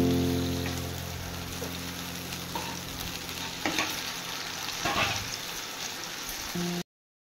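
Ash gourd fries with a hilsa fish head in a pan, a steady close sizzle with scraping stirs running under it until the sound cuts off abruptly.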